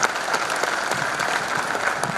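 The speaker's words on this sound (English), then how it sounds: "big round of applause for him." An audience at a panel discussion applauds steadily, a dense even wash of many hands clapping at moderate distance with no break, no voices rising above it.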